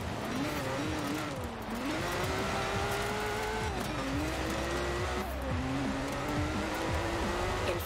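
Engine of a car racing in Forza Horizon 4 drones steadily and loudly, its pitch rising through gears with brief drops at shifts, while tires squeal and skid throughout, with no talking.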